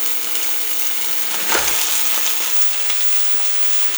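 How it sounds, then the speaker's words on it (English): Onions sautéing on an induction griddle give a steady, close sizzle of frying with faint scraping and stirring, swelling briefly in the middle. "this is where I'm going to get some onion sauteed"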